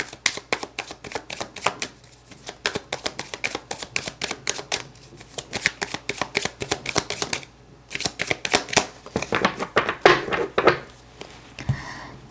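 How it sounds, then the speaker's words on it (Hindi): A deck of tarot cards is shuffled over and over, producing rapid, close, riffling flutters in quick bursts with brief pauses, loud and alone. "आपके लिए कार्ड्स को शफल करते हैं"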